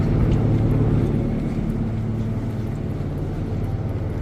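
A police patrol helicopter flies overhead in the street outside, a loud steady rotor and engine drone that fades slightly and holds on without talk.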